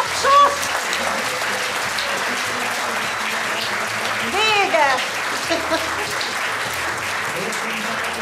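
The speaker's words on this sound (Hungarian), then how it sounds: "Már megkaptam a tapsot!" Audience applause, steady broadband clapping across the whole stretch, with a brief voice and some whistle-like tones partway through.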